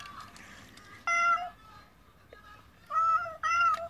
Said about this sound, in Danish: det lyder som en kat